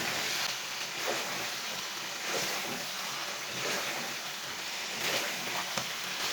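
Chicken masala with tomatoes sizzles as it is stir-fried (bhuna) in a pan, a steady close hiss of frying with faint scraping now and then.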